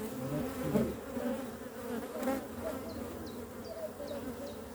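Honey bees swarm around an opened hive full of honey, a dense steady buzz up close, with a few faint short chirps near the end and no speech.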